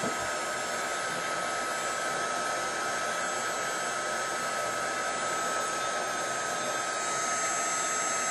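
A heat tool drying sprayed tin foil flowers gives off a steady, loud, continuous whir and rushing blow that holds unchanged from start to end with no talking.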